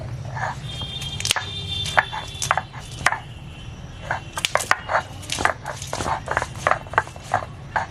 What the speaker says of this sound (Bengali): পাঁচটা কাঁচা লঙ্কা আমি সিলে পিছিয়ে নিচ্ছি কাঁচা লঙ্কাগুলো আলাদা বেটে নিচ্ছি